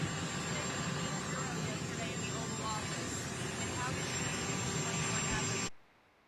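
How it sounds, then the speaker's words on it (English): A helicopter overhead during an outdoor interview produces a steady, loud, broadband rotor and engine roar that continues unchanged, then cuts off abruptly near the end. "they do these interviews with a helicopter going for some reason every time"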